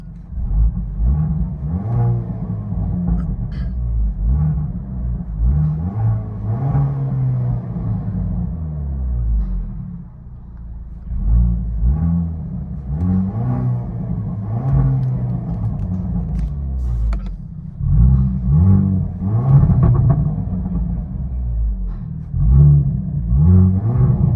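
A deep, steady Hyundai Kona N engine rumble with the exhaust valve closed, heard from inside the car, droning low with slight rises and dips as it idles and revs gently.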